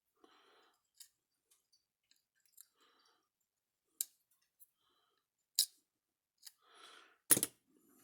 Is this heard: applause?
no